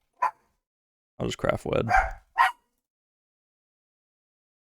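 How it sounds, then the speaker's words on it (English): A dog barks nearby, with a short yip at the start and a couple of sharp barks afterward, mixed in with someone talking. "Sorry for my dog barking."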